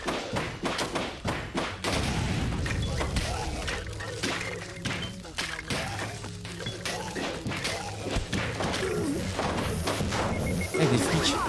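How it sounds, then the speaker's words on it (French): Cars being smashed in the beat-'em-up video game Beatdown City Survivors, a dense barrage of heavy thuds, crashes and shattering hits layered over game music, loud and continuous throughout. "On pète les bagnoles."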